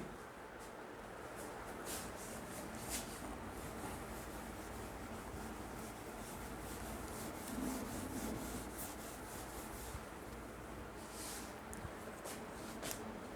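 Steady dry rubbing of an eraser across a board while solving a welding exam problem, a continuous scrubbing texture with small bursts of strokes, fairly faint and unbroken, no talking.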